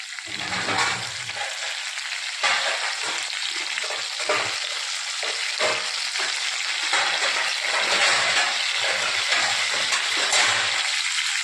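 Chopped onions sizzle loudly in hot oil in a pan, with bursts of scraping and stirring that come and go over the steady frying hiss.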